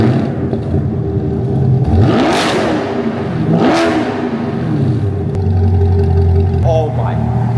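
A C8 Corvette with straight-piped aftermarket exhaust fires up from a warm start, cranking into a loud bark and then rev blips that rise and fall, close and overwhelming at night in Miami.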